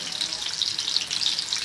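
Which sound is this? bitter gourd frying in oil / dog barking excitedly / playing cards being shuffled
bitter gourd frying in oil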